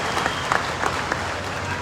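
An audience at a live IMC event in Haridwar bursts into applause, a dense, loud clatter of many hands clapping for about two seconds with a few sharper individual claps standing out.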